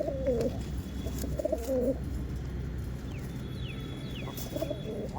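Giribaj pigeons coo outdoors in the sun: soft, throaty rolling coos come in a few close bursts over a steady low murmur of other birds, with faint chirps higher up.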